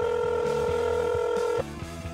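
Telephone keypad dialing tones, a steady layered tone lasting about a second and a half over a repeating low rhythmic pattern, then stopping abruptly while the pulsing low pattern continues.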